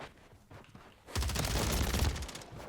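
Rapid automatic gunfire bursts out in the online shooter Warzone as a dense, crackling rattle of many shots in quick succession, loud and sustained for over a second after a quieter start.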